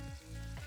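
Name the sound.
prawns frying in oil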